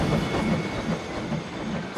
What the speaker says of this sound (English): There goes the train.